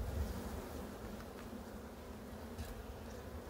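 Honeybees at a hive during late-autumn care, giving a steady, close, low hum with a faint buzzing texture and no voices, with no clear breaks in the drone.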